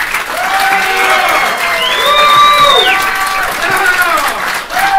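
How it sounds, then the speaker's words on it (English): Applause from a conference audience at the close of a talk, steady and full across the clip, with voices and other tonal sounds layered over the clapping. "Thunderous applause."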